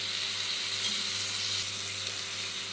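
Potato pieces frying in a wok as a steady, even sizzle that fills the whole stretch without pause or voices.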